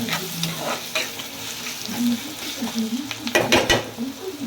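Onion browning in a pan gives a close, busy sizzle, with stirring scrapes and clanks of a utensil against the pan, heaviest in a short burst near the end.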